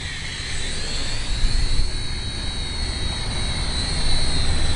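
A radio-controlled model airplane flies nearby, its quiet, steady motor hum and airy whine swelling slightly as it passes, with no talking.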